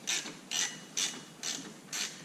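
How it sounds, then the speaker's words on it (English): A socket ratchet clicks five times in an even rhythm, each short burst of pawl ticking close and clear, while loosening an alternator bracket bolt on a 1998 Subaru Forester. "All I gotta do is loosen this bolt right here"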